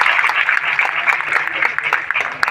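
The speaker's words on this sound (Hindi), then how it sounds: "और एक बार राजेश जी के लिए ताली बजा सकते हैं आप चाहें तो।" An audience at a health camp event at an Ayurvedic college claps in appreciation for Rajesh ji, a dense, steady patter of many hands at close range, with some voices mixed in.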